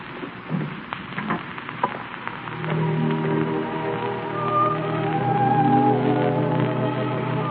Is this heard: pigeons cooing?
no